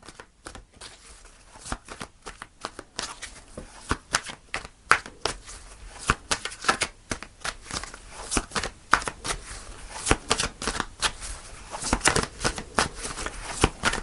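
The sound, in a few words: shuffling tarot cards to pull a card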